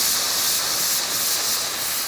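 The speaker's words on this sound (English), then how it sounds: "I'm just gonna let it release the steam" Steam hisses loudly and steadily as it vents from a cooking pot in a home kitchen, a close, continuous broadband rush with slight swells and no speech.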